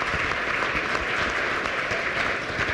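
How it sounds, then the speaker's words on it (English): Audience at a university start-up competition grand finale applauds the competing teams, a loud, sustained, evenly dense round of clapping filling the room. "give a round of applause for ViFlex and all of our competitors"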